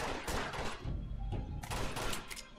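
Gunfire in Uncharted: Drake's Fortune: fairly quiet, scattered shots and short bursts sounding from some distance within the game, sharp cracks spread across a few seconds.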